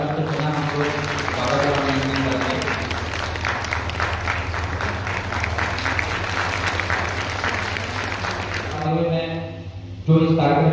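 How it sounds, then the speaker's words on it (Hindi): A large audience at a community health workers' gathering applauds steadily in welcome, a dense, sustained wash of clapping lasting nearly the whole stretch before it fades, with a voice speaking over it toward the end. "एक बार अपना जोरदार तालियों के साथ हम आप लोगों का स्वागत कर रहे हैं"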